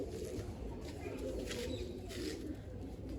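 Pigeons in a coop coo softly and steadily, with faint rustling close by and no voices.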